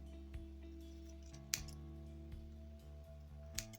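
Scissors snip through a person's own hair as they cut it themselves, giving a few sharp, well-spaced snips over a faint steady hum, with no talking.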